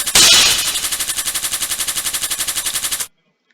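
Rapid-fire player shots in a Danmakufu bullet-hell game, a loud, fast, evenly pulsing stream of electronic blasts with a bright burst at the start, cutting off abruptly into silence.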